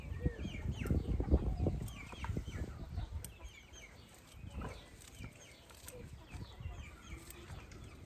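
Chickens clucking at a rural farmyard, a busy cluster of calls with some wing flaps, close by, mixed with people talking throughout.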